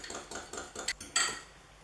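Melted butter being stirred into biscotti batter in a mixing bowl, a run of quick spoon-on-bowl clinks and scrapes in short bursts, fairly close, with no talking.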